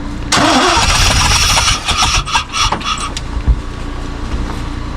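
A 1988 GMC OBS pickup truck revived after more than twenty years sitting cranks and fires up with a sudden loud roar, then settles into a rough, uneven idle with bursts of revving as it prepares to back up.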